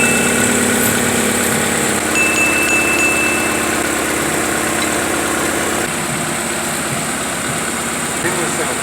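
A Honda car engine idles steadily with a continuous low rumble while its exhaust gasket heats up, heard close, and people talk over it.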